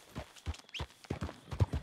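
Horse hooves clip-clop in Red Dead Redemption 2, a few uneven near thuds over roughly two seconds at moderate volume, with no talk over them.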